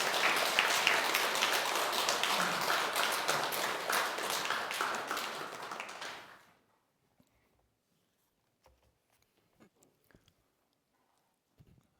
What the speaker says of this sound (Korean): 우리 함께 귀한 박수로 우리 환영을 해주시겠습니다